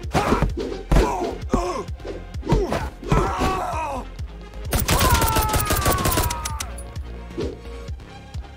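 Dart gun shots in the brawler game Midnight Fight Express, fired during a pillow fight: a dense, loud flurry of sharp pops and thuds over a busy game soundtrack, easing off toward the end.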